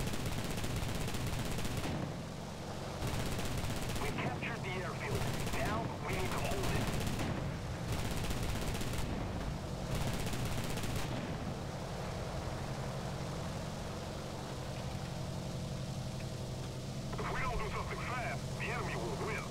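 Gun turrets on a Z.1007 bomber fire in War Thunder, with rapid machine-gun bursts stopping and starting in repeated blocks over engine drone. Someone talks over much of the firing.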